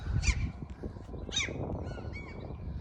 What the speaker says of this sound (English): Seagulls laughing at them.